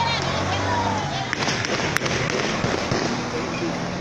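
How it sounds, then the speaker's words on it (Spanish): Scattered sharp gunshot cracks and pops rise above a dense, noisy crowd din during an attack on a police base in Ciudad Isla, with a few louder bangs standing out near the middle. "Son tiros que estamos escuchando aquí en este lugar."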